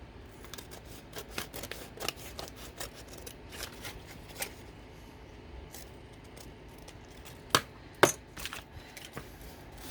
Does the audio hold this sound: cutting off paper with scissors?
yes